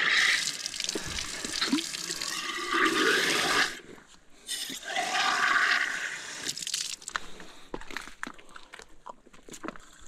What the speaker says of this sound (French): je tourne, mais le robinet il est là.